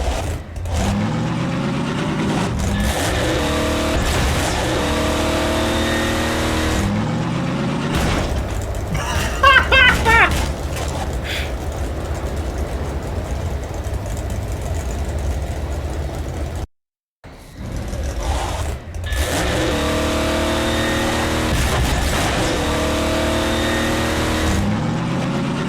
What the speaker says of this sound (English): Alright, I need to hit the turbo, because I left the car there.